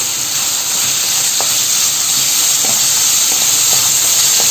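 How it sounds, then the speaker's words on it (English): Meat searing in a hot pan with five-spice powder gives a loud, continuous sizzle and hiss, broken by scattered small pops and crackles of spitting fat, close up with no voices. "We hear the sizzling sound."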